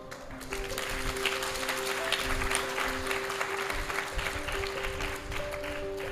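An audience applauds steadily at a religious discourse, dense clapping holding at an even level for several seconds with a faint sustained tone beneath.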